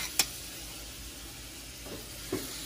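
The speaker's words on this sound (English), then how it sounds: "get some butter going for our ragu" Butter sizzles in a ragu pan with a steady close hiss, marked by a sharp clink at the start and a couple of soft scrapes later on.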